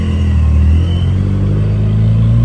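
A car engine revs steadily on a test drive after a suspension overhaul with 26 bushings replaced and new spark plugs fitted, a loud, continuous low rumble holding close and even throughout with no talk.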